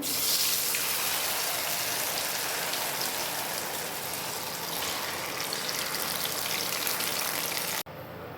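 A spice mixture hits hot oil already crackling with whole cumin seeds, cooking for dhokar kofta; a dense, steady sizzle runs loud and close, then cuts off abruptly near the end.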